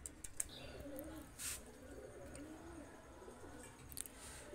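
Two pigeons cooing close by in repeated soft, throaty phrases, with faint chirps and small bumps around them and no talking.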